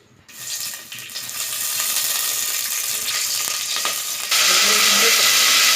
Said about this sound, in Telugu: ఈ ఆయిల్లో ఫస్ట్ కరివేపాకు వేసుకోవాలి